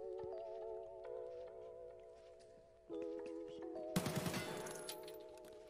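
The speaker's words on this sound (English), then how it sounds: "Hearing a gunfight inside, I know the guy is wounded." A gunfight in the video game Escape From Tarkov sounds faint and distant at first under a steady tonal hum. It ends in a louder rattle of several quick shots.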